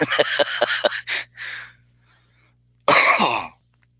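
Close, breathy sounds and sputtering bursts, then a single loud cough right into the microphone, followed by quiet.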